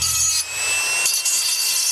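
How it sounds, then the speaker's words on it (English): Wood being rubbed smooth by hand with sandpaper, a steady close scratchy abrasion running continuously with brief dips in stroke. "Just keep sanding."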